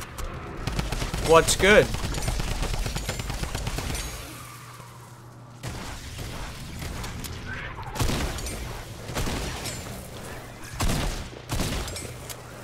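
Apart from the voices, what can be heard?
drum gun firing in Fortnite video game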